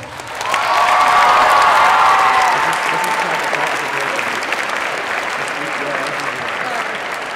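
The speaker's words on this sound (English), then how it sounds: "So please applaud your fall sports senior Titans." A crowd at a high school senior recognition ceremony applauds loudly and steadily, with some cheering and a whistle early on, then the clapping eases slightly but continues.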